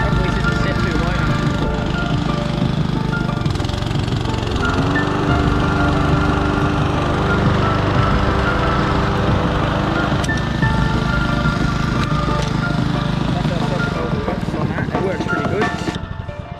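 A ride-on lawn mower runs with its blades engaged, a loud steady engine drone with a deeper whirring load that shifts partway through, continuous and close.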